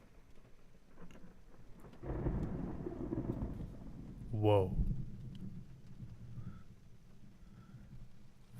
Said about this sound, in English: That lightning just struck down